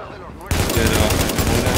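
Rapid automatic gunfire from the video game The Division, bursting in abruptly after a quieter lead-in and then hammering on as a loud, sustained stream of shots.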